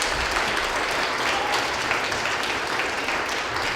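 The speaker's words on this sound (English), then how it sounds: "let's give these people a big round of applause" Congregation applause during a church morning service, a steady dense wash of clapping that fills the whole stretch at close range, with no speech over it.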